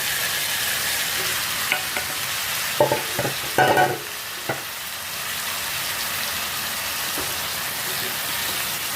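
Continuous sizzling of red amaranth greens and fried potatoes in a pan, with a few scraping stirs of a utensil in the middle.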